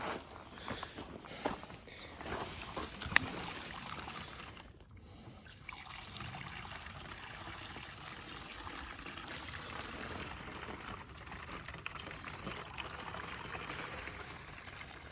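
Unleaded petrol drains from the fuel tank of a BMW E30 330i, a faint continuous trickle and pour with occasional clanks and shuffling footsteps nearby.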